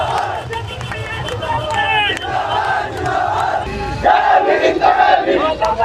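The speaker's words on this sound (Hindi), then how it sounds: "भीड़ लगी हुई है पूरी की पूरी।" A large crowd gathered outside the Gwalior High Court over a Babasaheb Ambedkar statue, loud and close, with shouting voices, slogan-like cries and dense babble throughout.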